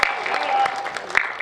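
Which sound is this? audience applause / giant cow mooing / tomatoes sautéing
audience applause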